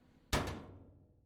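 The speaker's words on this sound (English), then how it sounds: "Close door." A door closes with one sharp, close thump that fades quickly, surrounded by near silence.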